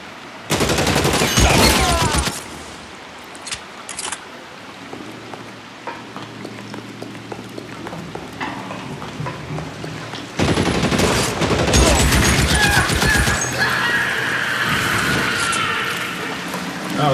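Rapid bursts of automatic gunfire from a heavy-recoil gun in L.A. Noire rattle loud and close, with a long opening burst, scattered single shots in the middle and another sustained volley near the end.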